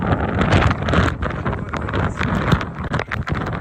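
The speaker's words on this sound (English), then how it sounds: "It's windy, it's cold." Strong wind roars and buffets the microphone outdoors in cold weather with hail falling, a loud, continuous gusting rush with no voices.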